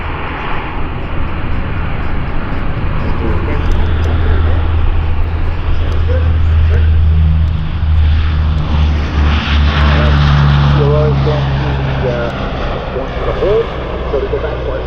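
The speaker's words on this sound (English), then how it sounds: "On the takeoff roll, the CP-140 Aurora." A CP-140 Aurora four-engine turboprop patrol aircraft on its takeoff roll at an airshow, with a loud, sustained engine drone that shifts in pitch as it gathers speed, under an announcer's voice over the public address.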